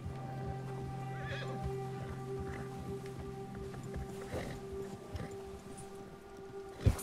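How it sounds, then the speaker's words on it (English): A horse in Red Dead Redemption 2, spooked by a bear, neighs and snorts with a few hoof clops, over a steady low hum and faint background noise. "The bear has spooked your horse."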